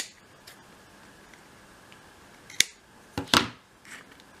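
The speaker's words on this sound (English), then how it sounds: "It's because I'm using these massive scissors again." Large scissors trim a waterslide transfer sheet for miniatures, giving a few sharp close snips and crisp cutting crunches spaced apart over quiet background.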